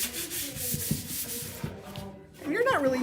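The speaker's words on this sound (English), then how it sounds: "And then now I'm gonna do a quick little sand." Light hand sanding of a wooden headboard before painting, a soft rhythmic back-and-forth rubbing with a few strokes, close and fairly quiet, ending as a voice begins.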